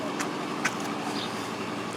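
Steady rumble of a neighbour's motorcycle engine idling or passing outside, a broad continuous roar with no talking.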